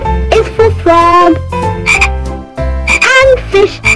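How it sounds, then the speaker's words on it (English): Loud, close frog croaks repeat in a quick rhythmic series, deep pulsing calls with brief pauses between bursts. "Frog"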